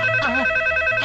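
A telephone rings with a short electronic tone, its bright steady pitch briefly warbling, heard close and alone for about a second.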